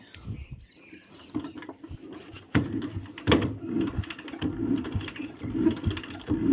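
A Royal Enfield diesel Bullet motorcycle's engine runs nearby with an irregular mechanical clatter and thumping, rising somewhat in intensity partway through and continuing steadily to the end.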